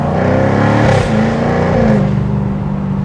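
A 2024 Jaguar F-Type R75 AWD convertible engine revs hard close by, rising and falling in pitch as the throttle opens, loud and alone.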